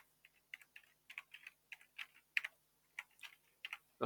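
Typing on a computer keyboard, irregular quick clicks and short bursts of keystrokes, close and clear in a quiet room with no talking.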